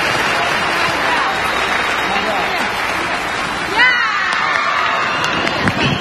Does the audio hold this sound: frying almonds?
no